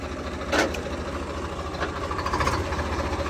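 A Swaraj 855 tractor engine runs in low gear with a steady, deep diesel rumble and faint mechanical clatter, close by and without speech.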